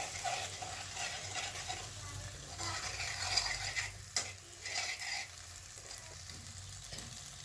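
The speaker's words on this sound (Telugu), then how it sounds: "కలుపుకున్న ఎగ్స్ మిశ్రమాన్ని వేసి బాగా ఫ్రై చేసుకోవాలి" Beaten egg mixture frying in oil in a pan over high flame, a faint continuous sizzle with soft scraping and stirring sounds throughout.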